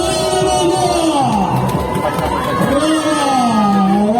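Outdoor crowd at a tourist stunt show cheering and applauding, loud and continuous throughout, with a voice talking over the noise.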